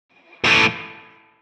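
A single distorted electric guitar chord hit through a Tonex room reverb, striking loud and then fading away over about a second with the reverb tail.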